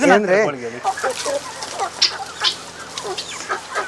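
Chickens cluck softly and steadily close by as they are fed sprouted grains, while a person speaks briefly at the start.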